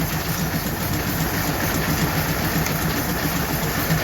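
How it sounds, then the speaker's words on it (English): A tractor engine idles steadily nearby at a tractor show in Eagleville, Tennessee, giving off a low, even rumble with a faint rhythmic chug and no other sounds. "The tractor's kind of idling right now."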